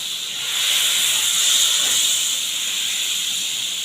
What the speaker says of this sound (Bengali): এখন আমি ডালটা দিয়ে দিচ্ছি।